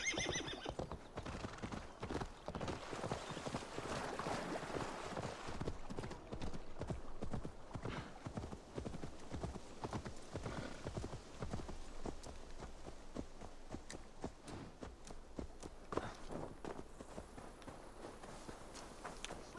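Horse hooves clip-clop steadily in Assassin's Creed Valhalla gameplay, a continuous rhythmic trot with occasional whinnies and neighs over a busy game soundscape.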